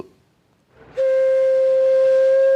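A century-old steam locomotive on the Alishan Forest Railway in Taiwan gives a loud, sustained steam whistle: a steady tonal blast that starts abruptly after a quiet moment and holds strong and close to the end.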